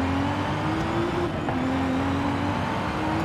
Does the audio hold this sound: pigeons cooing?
no